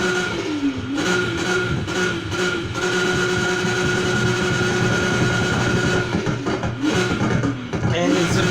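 Exhaust of a 1976 Volkswagen Golf GTI in the racing game Need for Speed Heat, a loud continuous engine drone that rises and falls with revving in several surges.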